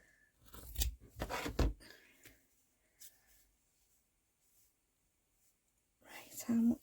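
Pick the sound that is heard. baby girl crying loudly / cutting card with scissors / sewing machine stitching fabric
cutting card with scissors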